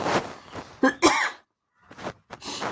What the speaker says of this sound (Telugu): కొంచెం ఉండి వస్తుంది చూసారా దగ్గు లైట్గాను